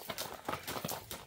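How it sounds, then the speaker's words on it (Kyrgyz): A horse's hooves clip-clop in a quick, irregular run of faint knocks, recorded at a fair distance over soft background noise. "Бүгүн дагы жаңа ат келип турат"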